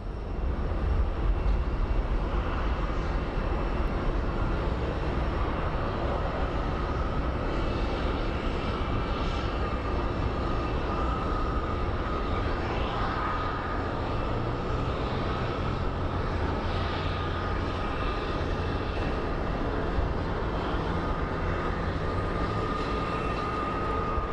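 Airliner at Phoenix Sky Harbor International Airport, its engines a steady, broad roar that holds for the whole stretch without breaking, heard from a distance across the open apron with no voices over it.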